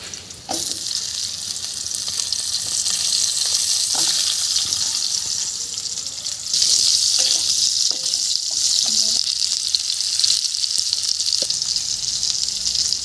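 Potatoes and noni stems frying in hot oil in a Bengali village kitchen, a steady loud hiss and sizzle throughout, with a few clinks from stirring and a voice talking over it.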